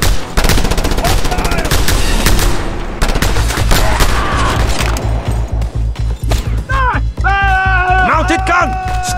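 Loud, sustained rattling bursts from a mounted gun in Just Cause 2, fast repeated shots hammering close by, broken by short pauses, with shouting voices over the shooting near the end.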